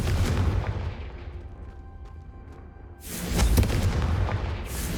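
Explosive Confringo spell cast in the Hogwarts Legacy video game: a loud booming blast that decays into a rumbling tail, then a second heavy burst with crackling debris, no talking.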